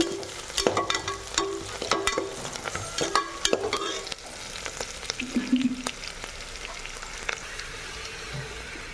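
Mint and curry leaves sautéing in a pan for ghee rice, a steady close sizzle of frying with repeated scraping and clacking strokes of a spoon stirring, no talk.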